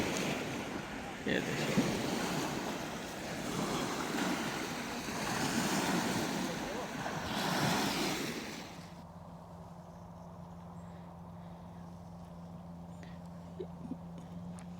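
Sea surf washing onto a shore, a broad rolling wash of breaking waves for the first nine seconds with someone speaking briefly over it, then dropping to a quieter low rumble with wind noise.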